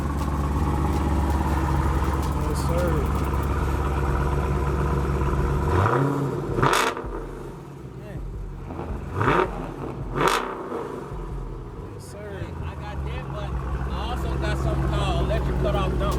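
A manual Cadillac CTS-V at a car meet rumbles at a deep idle, then gives a few sharp, loud revs in the middle before settling back to its idle. Voices talk briefly nearby.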